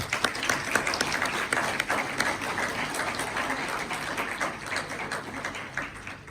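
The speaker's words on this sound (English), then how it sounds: "could you please join me in giving all of our Macedonian teachers a round of applause" An audience at a Year 12 graduation ceremony in Melbourne applauds Macedonian language teachers, a sustained, fairly loud wash of many hands clapping that tapers slightly toward the end.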